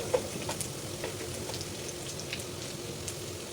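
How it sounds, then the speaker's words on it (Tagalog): Garlic and onion sautéing in a hot pan, a steady soft sizzle and crackle with no talk over it. "Lagyan natin yung sibuyas. Gisa-gisa lang."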